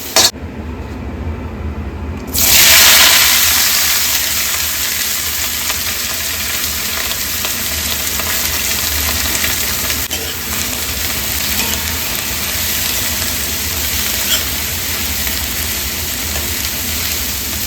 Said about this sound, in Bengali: এরপর একে একে সবজিগুলো ভেজে নিয়ে